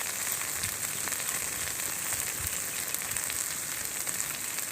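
Ginger and garlic fry in hot oil in a pan while being stirred, a steady close dense sizzle with faint scraping throughout, no voices.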